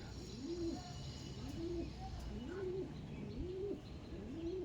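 Andhra pigeons coo in a steady, repeated series of rising-falling calls, about five phrases evenly spaced, close by over a constant low background murmur.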